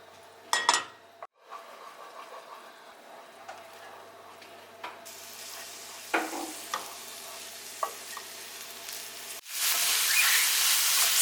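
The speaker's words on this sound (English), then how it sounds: "what we're gonna do next is saute some of those vegetables that go on top" Onions and vegetables sauté in a pan with a soft, steady sizzle, punctuated by scraping utensil stirs and clanks, ending in a louder rush of hissing.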